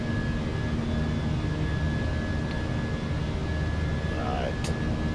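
Steady airplane engine drone during a climb in Microsoft Flight Simulator 2024, a broad continuous hum with a sustained tone, flaps retracted, running under a low voice.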